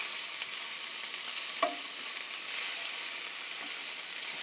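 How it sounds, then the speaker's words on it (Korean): Beef is stir-fried slowly in a pan, a dense, even sizzle held throughout with one faint clink of a utensil partway through. "고루 천천히 뒤집으면서 볶아주세요"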